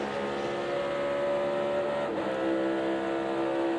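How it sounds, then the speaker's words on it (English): NASCAR Cup Series race car at the AutoTrader EchoPark Automotive 400 downshifting from fifth to fourth through turns one and two, a loud steady engine drone with a brief pitch dip and blip midway, no talk. "Hear him shifting. They're downshifting from fifth to fourth in turns one and two."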